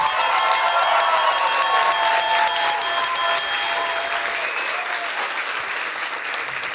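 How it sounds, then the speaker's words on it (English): Loud, sustained clapping from a science slam audience greeting the next speaker, dense and steady at first, then gradually thinning and fading over several seconds. "Big applause for Jun"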